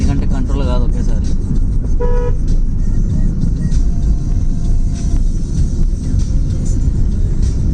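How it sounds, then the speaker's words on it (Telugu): A van on a winding mountain road sounds its horn in two short, loud toots over a constant heavy engine and road rumble, with talk nearby. "Every turning point horn must important."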